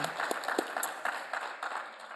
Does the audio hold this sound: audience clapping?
yes